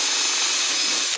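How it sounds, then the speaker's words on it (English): A power drill bores briefly into a Shadowtrooper TX helmet lid during assembly, a loud, steady whirring grind that cuts off abruptly at the end, with no talking. "That's where I want to drill."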